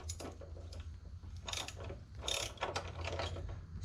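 A ratchet wrench works a radius rod bolt on a Can-Am Maverick X3, making bursts of quick clicking pawl strokes in several short runs, close and fairly quiet.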